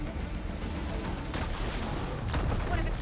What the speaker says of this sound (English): Cannons should help me deal with the big guy